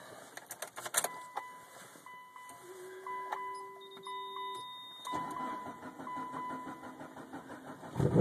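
A Mitsubishi Evo that had sat for about a week starts from cold. Keys jangle first, then chimes and beeps sound before the engine cranks and catches, settling into a close, steady idle in neutral with a final thump.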